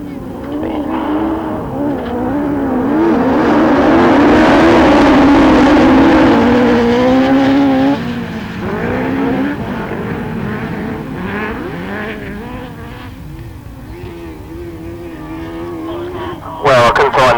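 Class 8 autograss race cars at St Neots Autograss race around a dirt track, their engines revving and rising and falling loudly, then fading to a lower drone, with a commentator talking over the public address throughout.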